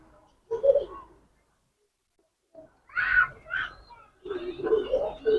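Lalsar pigeons give a few short, soft coos close by, in separate bursts between brief pauses.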